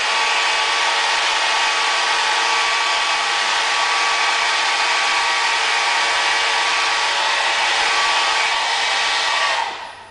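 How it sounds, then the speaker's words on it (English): A 12-volt fan cranked to high speed gives a loud, steady, hair-dryer-like whoosh of rushing air that holds constant for about ten seconds, then cuts off abruptly at the end. No talking. "when you crank this up, sounds like a hairdryer, but does it ever move air?"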